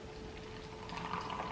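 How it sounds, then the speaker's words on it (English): Water pours steadily from close by into a matcha latte mix, a continuous soft gurgling splash that grows slightly fuller toward the end, with no speech. "Then I'm gonna add the water."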